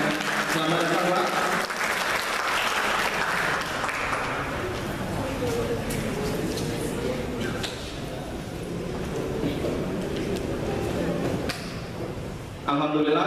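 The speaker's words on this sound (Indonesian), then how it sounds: "Berikan tepuk tangannya" A seminar audience applauds steadily and loudly for several seconds as a speaker is welcomed, with voices mixed in underneath the clapping.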